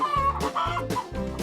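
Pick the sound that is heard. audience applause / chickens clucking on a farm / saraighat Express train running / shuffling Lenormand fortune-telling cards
chickens clucking on a farm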